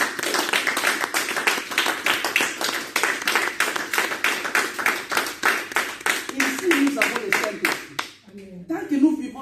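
A church congregation claps in a fast, steady rhythm, the dense crowd clapping carrying through a prayer service before breaking off near the end, where a voice is heard.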